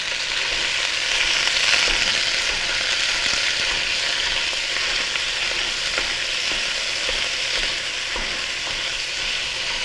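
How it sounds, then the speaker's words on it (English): Ground beef frying and browning in a pot gives a loud, dense, continuous sizzle with faint stirring scrapes running through it, heard alone without talk. "We're going to go ahead and put the ground meat in. Go ahead and get it kind of chopped up and browned off."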